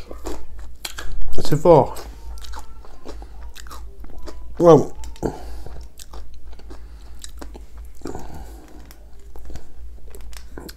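Spicy wasabi chips are crunched and chewed close to the microphone, with brittle crunches and chewing between short remarks in French.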